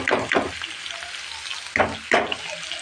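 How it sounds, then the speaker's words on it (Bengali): Shredded cabbage pours into a hot pan of fried prawns, setting off a loud broadband sizzle with several sharp rushing bursts as the vegetables land, then a steady crackle between them. "এখন আমি সবজিটা ঢেলে দেবো পাতাকপিটা ঢেলে দেব"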